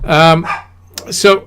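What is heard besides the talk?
dog barking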